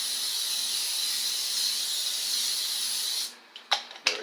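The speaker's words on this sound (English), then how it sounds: "Spray them on the top." A steady hiss of cooking spray onto arepas runs for about three seconds, then stops, followed by two short, sharp bursts close by.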